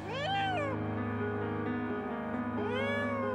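Cobby the cat, stuck between two solid concrete walls, lets out long, loud, wailing meows, two drawn-out rising and falling cries close to the microphone over a steady low hum.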